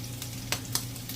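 Black pepper being stirred into adobo spinach frying in a pan, soft sizzling with a few brief scraping strokes of a utensil, quiet and close.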